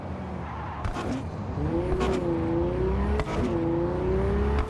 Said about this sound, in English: I like the sound of this car so much